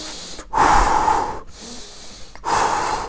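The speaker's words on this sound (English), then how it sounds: "you should be breathing in through your nose and out through your mouth" Nasal breathing in through the nose, heard as two loud, close, hissy inhales separated by a softer exhale, with no talking.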